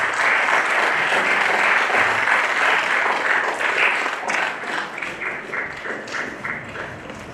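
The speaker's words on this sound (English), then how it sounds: "Big round of applause, please." Sustained applause from an audience at a signing ceremony, dense and loud at first, then thinning into separate, more distinct claps toward the end.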